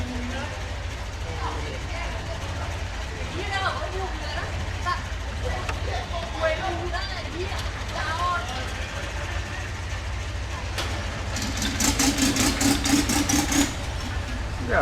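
A vehicle motor runs steadily at a Thai floating market, Damnoen Saduak, as a constant low rumble that grows louder near the end, with voices over it.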